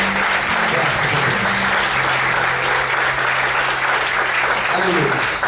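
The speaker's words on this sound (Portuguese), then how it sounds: "Você pode desocupar sua mão e aplaudir o Senhor." A church congregation applauds steadily throughout during a worship service, a dense continuous wash of clapping with a low voice or hum sustained underneath.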